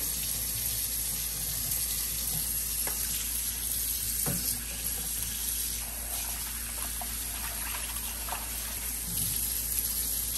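Raw beef is rinsed under running tap water in a kitchen sink: a steady, dense hiss of flowing water, with occasional faint clinks and splashes as the meat is handled.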